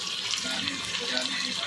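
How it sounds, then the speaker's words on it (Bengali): Hot water poured into chicken cooking in a pan, heard as a steady, close gushing splash for a short moment with someone speaking over it. "এবার এই গরম জলটা আমি দিয়ে দেবো মাংস"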